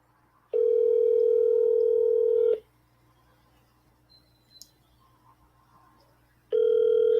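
Telephone ringback tone on an outgoing call, a loud steady two-second ring, then a pause of several seconds, then the next ring begins.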